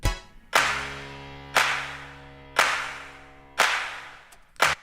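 Real acoustic hand claps in a music track, sounding as five sharp, bright hits spaced about a second apart, each trailing into a sustained tonal ring with a low bass hum underneath.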